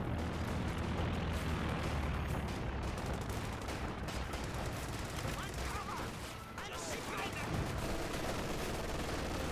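Grenadiers fire away in the Company of Heroes 2 video game with dense, continuous gunfire and rumbling battle noise. A voice talks over the shooting throughout.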